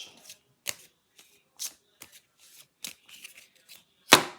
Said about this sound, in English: And then I'm going to do a shuffle.